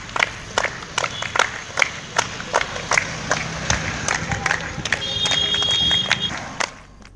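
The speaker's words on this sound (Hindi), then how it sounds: "आज रायपुर एम्स के डॉक्टरों का स्वागत ताली बजाकर किया" A crowd claps to welcome doctors at AIIMS Raipur, with sharp, uneven claps ringing out over a noisy crowd and voices, then building into a denser burst of applause before fading.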